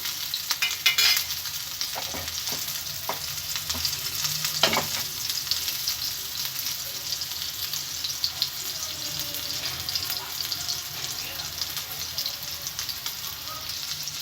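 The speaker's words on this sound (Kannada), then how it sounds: "ಮತ್ತು 2 ನಿಮಿಷ ಇದನ್ನು ಈ ರೀತಿ ಫ್ರೈ ಮಾಡಿಕೊಂಡ್ರೆ ಸಾಕು, ರೆಡಿಯಾಗುತ್ತೆ." Chicken keema vadas fry in oil in a pan, giving a loud continuous sizzle with occasional clatters of a utensil being turned and stirred, close up and without talk.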